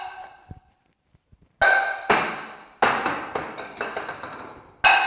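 Polymer sublimation mugs hurled against a wall, a series of sharp hard cracks and clattering impacts, one sudden hit after another with short rattling tails and brief pauses between throws.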